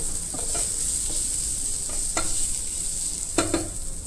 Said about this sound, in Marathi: उलट पालट करून घेऊ।